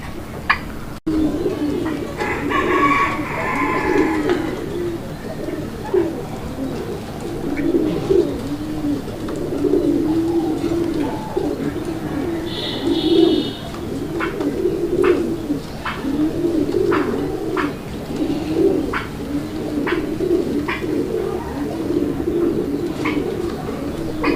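Deshi Raj Golla pigeons coo in a repeated, rolling rhythm close by, the low throaty calls recurring throughout with a few faint chirps and clicks in the background.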